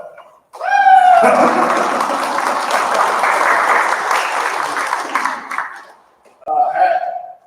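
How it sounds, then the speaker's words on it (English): Audience applause at an annual sobriety celebration, a loud sustained wash of clapping from a large crowd lasting several seconds after a speaker's voice, then dying away before talk resumes. "I'd give myself an applause for that."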